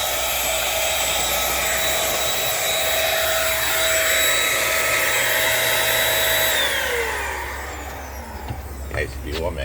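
A Dirt Devil Simpli Stick vacuum cleaner running on an outdoor deck, a loud steady motor whine with a high tonal hum that holds for several seconds, then winds down as the motor shuts off near the end.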